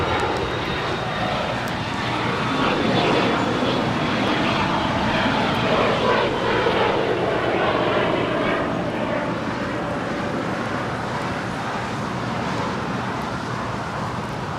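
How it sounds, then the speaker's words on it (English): A Bombardier Challenger business jet departs Los Angeles International Airport, its broadband engine roar steady and loud across the whole stretch, blended with distant traffic hum. "That is a Bombardier Challenger departing to San Diego McClellan Palomar Airport."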